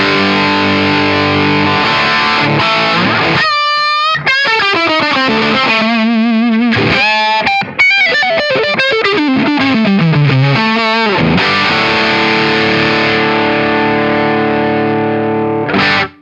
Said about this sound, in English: really up to a nice distortion.